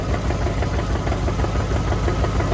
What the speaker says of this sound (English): The knocking noise is back.